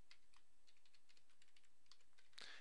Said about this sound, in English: Make sure to type the same password in twice.